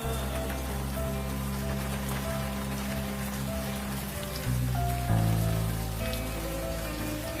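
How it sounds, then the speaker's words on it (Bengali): Heavy rain pours down in a steady, dense patter that runs throughout, with sustained tonal sounds underneath and no voices. "কি যে বৃষ্টি শুরু হয়েছে না।"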